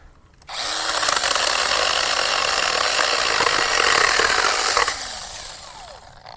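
A 6-inch ALLONE mini chainsaw cuts through a piece of firewood, a loud, steady buzzing cut lasting about four seconds that starts abruptly and tapers off as it finishes.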